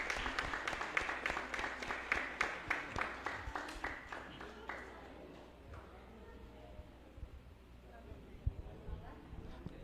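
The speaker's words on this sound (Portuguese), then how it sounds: "Uma salva de palmas para os afilhados mirins" A church congregation at an evening Mass for the feast of São Bento claps in a rhythmic, fairly even beat, strong at first and then fading out after about five seconds, leaving quiet room sound with a few scattered knocks.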